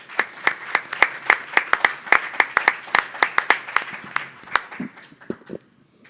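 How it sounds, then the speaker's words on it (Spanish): Audience applause at a poetry tribute at the Universidad de Lima, a burst of dense hand clapping that tapers into scattered claps and fades to silence within about six seconds. "Pido un aplauso para él."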